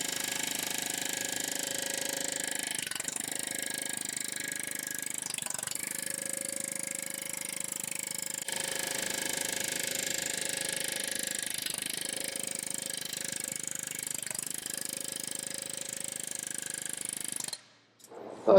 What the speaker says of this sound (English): ultimately it's coming into the plenishing hammer.